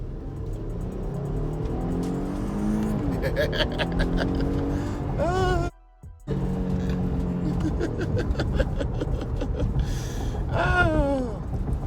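A 2018 Jeep Grand Cherokee Altitude in sport mode accelerates hard from a standstill, its engine rising through gears from inside the cabin, loud and continuous, with a brief gap at a shift and a voice near the end.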